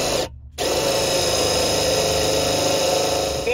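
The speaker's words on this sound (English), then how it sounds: "clean up that location with the wire brush" A wire brush scrubs paint off a bolt mounting spot on a Ford F150 truck, prepared for an amplifier ground. The rasping scrub runs steady and close throughout, with one brief pause near the start.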